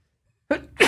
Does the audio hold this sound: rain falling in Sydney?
no